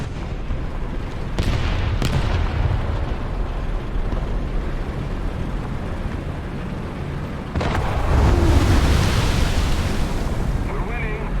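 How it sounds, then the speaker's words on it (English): A tank battle video game produces a heavy explosion, a loud broadband blast that fades into rumbling rolling noise, followed by a second swell of roaring debris and rumble. "That was one hell of an explosion."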